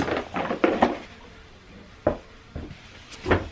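Pots, pans and utensils clink and clatter as dinner is cooked in a home kitchen, a handful of sharp metallic knocks scattered irregularly, fairly close but soft, with quiet gaps between.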